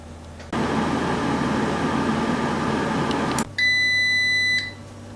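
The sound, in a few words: air fryer beeping as temperature is changed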